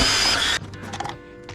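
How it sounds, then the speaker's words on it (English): A power drill bores holes into a plastic kayak crate, giving a loud, steady whir for about half a second before stopping, followed by faint clicks and handling noise. "Drill some holes on it to attach them to the crate with some zip ties here."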